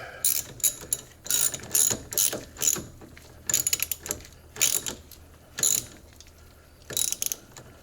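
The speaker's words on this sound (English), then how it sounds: "Now we're going to start reattaching our battery cables. Again, 10 millimeter socket." Ratchet with a 10 mm socket tightening the battery cables on a Ford F150, repeated bursts of quick clicking ratchet strokes with short pauses between, close and clear, no talking.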